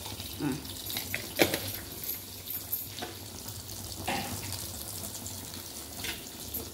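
Mustard and cumin seeds spluttering in hot oil for a tomato chutney, a steady crackling sizzle with scattered sharp pops and a few louder spits, close and moderately quiet, with no talk.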